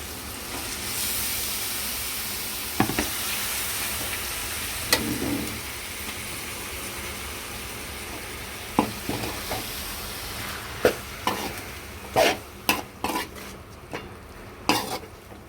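Chicken stirred into a pan of sautéed onion and tomato, with a steady low sizzle and frying hiss under scattered clinks and scrapes of a spoon against the pot, the sharp knocks clustering toward the end.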